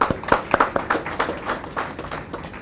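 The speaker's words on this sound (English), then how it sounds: "Ladies and gentlemen, if you may, another round of applause." A short burst of clapping at a formal launch ceremony, a handful of fairly close, irregular hand claps rather than a full crowd roar.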